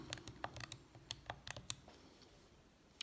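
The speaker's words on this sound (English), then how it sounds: "Typing our values in." Calculator keys pressed in quick, uneven bursts while entering matrix values, with sharp, close clicking taps over a faint steady hum and no talking.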